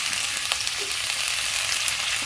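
Capsicum frying in a pan with onions and salt, a steady close sizzle with a few soft scrapes of stirring, no voices.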